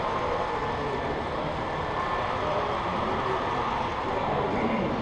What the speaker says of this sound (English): Watching Herb's train go passing by here